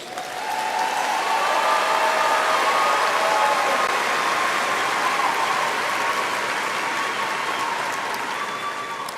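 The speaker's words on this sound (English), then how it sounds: "Please join me in extending another round of applause for our doctoral graduates" Steady, dense applause from a graduation ceremony audience honoring doctoral graduates, a broad wash of clapping that swells in quickly and holds evenly for several seconds before easing slightly at the end.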